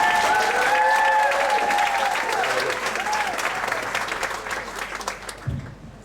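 Steady applause from a Pecha Kucha audience in Ubud, Bali, loud at first and gradually thinning out, with a few cheers and whistles mixed in.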